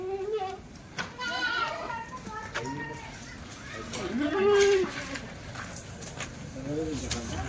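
Kathiyawadi dairy goats bleat repeatedly, near and loud, with several animals calling over one another and people talking in the background.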